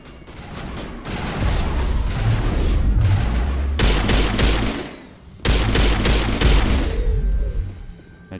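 Dense bursts of rapid gunfire from the Mass Effect video game, loud and close, with two long volleys separated by short gaps and a few booming impacts, without any talking.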